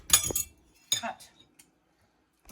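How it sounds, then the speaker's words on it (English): A spoon stirs and scoops beef lasagna meat sauce in a dish, giving bright clinks and scrapes in two short bursts, with a brief murmur of voice and a last faint tap. "Alright, we're stirring it."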